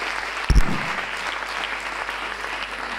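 Audience applause at an Italian medical talk on home care, a brief burst of clapping that settles into a steady, moderate patter across the room.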